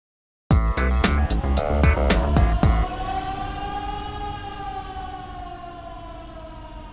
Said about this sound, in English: When you hear this siren, don't panic.